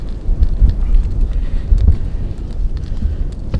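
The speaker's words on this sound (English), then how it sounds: "It's windy and cold," Steady, cold gusty wind buffeting a microphone during a whitetail deer archery hunt in Missouri, a constant low roar with rumbling surges and no voices.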